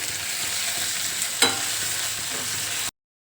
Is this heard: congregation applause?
no